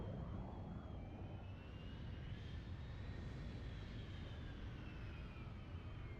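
Aircraft in a video game match fly past with a steady, continuous engine drone and rising, sweeping whine, loud and constant throughout with no talk.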